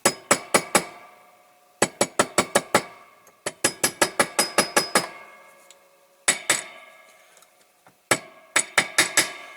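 Sharp metallic taps on a small diecast Dinky Toys Coventry Climax forklift truck held against a little vise, struck in quick bursts of four to seven ringing clinks separated by short pauses, close and loud with no talk.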